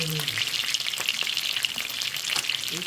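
A large fish frying in oil until golden crackles and sizzles loudly and continuously, with a faint voice-like murmur briefly at the start and end.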